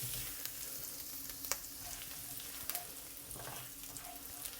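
Minced young ginger frying in a wok for mapo tofu, a quiet even sizzle with occasional light clicks and scrapes of a spatula.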